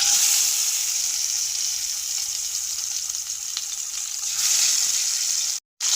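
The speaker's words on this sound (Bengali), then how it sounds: "তেলটা গরম হয়ে গেছে, এবার আমি একে একে মাছগুলো ছেড়ে দেবো।" Boal fish frying in hot oil in a pan, a steady loud sizzle that goes on without a break, with a light stir partway through and a brief dropout near the end.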